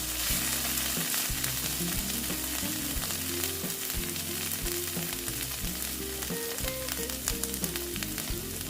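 Pointed gourd being stir-fried with salt and Kashmiri chili powder for mouri potol, a steady loud sizzle with repeated scraping stir strokes throughout, alongside a low sustained tonal drone.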